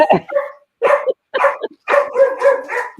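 A dog barks repeatedly at someone at the door, loud and close, in a quick series of sharp yips and barks.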